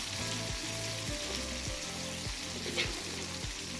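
Spices sizzle steadily while being sautéed in a pan for khara pongal, a dense continuous frying hiss with faint stirring scrapes and background music.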